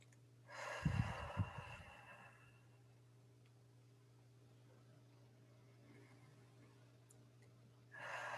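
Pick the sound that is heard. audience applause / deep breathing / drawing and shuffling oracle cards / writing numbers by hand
deep breathing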